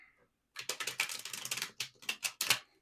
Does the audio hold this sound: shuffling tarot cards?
yes